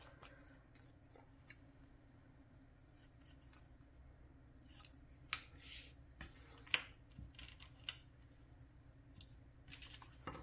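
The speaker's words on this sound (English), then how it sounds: "Now I can go ahead and trim down the sides here of my zipper ends, flush with the exterior bottom right here of the flap closure." Scissors snip through fabric and zipper ends at a sewing table, a series of quiet, irregular crisp cuts with small clicks and rustles between them, close by and without talk.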